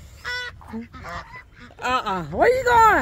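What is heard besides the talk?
birds by the water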